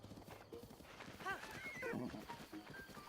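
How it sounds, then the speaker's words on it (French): Horses in Zelda: Breath of the Wild clop their hooves steadily and let out a few short neighs, against a busy, soft outdoor game background. "il y a des chevaux, peut-être des chevaux mieux que les miens"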